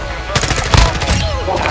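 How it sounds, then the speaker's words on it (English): A burst of rapid M4 machine gun fire crackles loudly from a video game, rattling shots over a busy background. "That's the sound of my gun."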